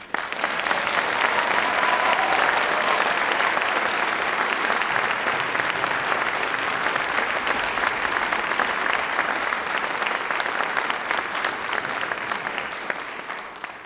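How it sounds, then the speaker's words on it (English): Loud, dense applause from a school audience of staff and students at an evening musical performance, a steady roar of clapping that holds at full strength for about fourteen seconds without easing. "Get ready to applaud very loud, please."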